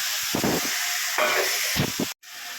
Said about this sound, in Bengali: তারপর রসুন দিয়েছি, রসুন ভাজি, লঙ্কা দিয়ে দিলাম, লঙ্কা